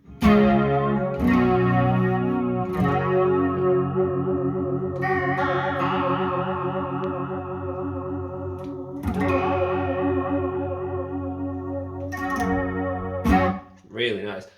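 Electric guitar through a Lectric FX Dandy Horse PolyChorus/Echoflanger pedal, its chorus swirling over sustained chords and picked notes, loud and close, with several abrupt changes and a brief burst near the end.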